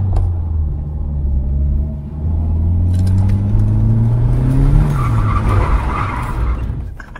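BMW E30 with a turbo conversion revving hard as it is driven, a loud continuous engine roar with rising pitch sweeps and gear changes, tyre noise and rumble building in the second half, no talking.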